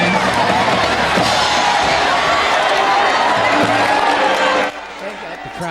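A large crowd cheers and roars loudly at a Friday night high school football game. The noise is dense and continuous, with voices mixed in, then it drops off sharply near the end.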